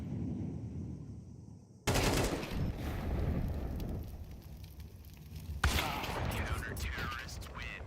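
Rapid automatic gunfire in a Counter-Strike 2 match erupts in two loud, dense bursts, with a commentator talking over the action throughout.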